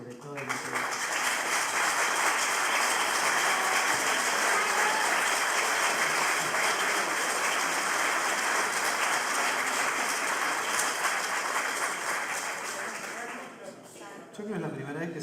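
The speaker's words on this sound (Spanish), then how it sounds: "es la primera vez que se aplaude una pregunta en un auditorio" Sustained applause from a large auditorium audience after a question, a dense steady wash of clapping that carries on for over ten seconds before tapering slightly.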